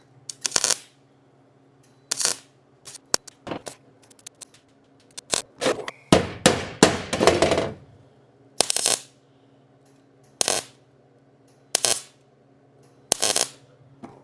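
Hammer blows on the rusty floor pan of a 1941 Mercury, struck in short sharp bursts of one to three metallic hits with pauses between them, close and loud, plus a denser flurry of rapid strikes near the middle.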